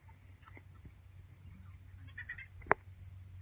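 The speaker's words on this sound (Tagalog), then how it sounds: "May goat doon. Malaki." A goat bleats once, short and fairly close, over a low steady rumble with faint background noise.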